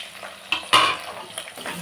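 Garlic and tomato sauté in a pan for a tamarind curry with elephant foot yam, a soft sizzle broken by a couple of sharp stirring scrapes.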